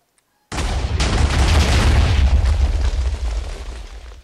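A concealed mine trap detonates in the video game Black Aperture. After a brief quiet moment a sudden loud boom erupts and rumbles on for several seconds with crackling debris, gradually thinning out. No one speaks.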